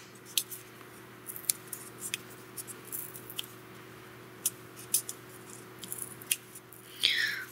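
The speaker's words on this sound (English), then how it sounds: "I'm going to try and very carefully remove the tape so I don't waste paper" Tape is carefully peeled off tracing paper in slow, intermittent tugs, each giving a soft crackly rip or tick, with a steady electrical hum underneath and a longer tearing crackle near the end.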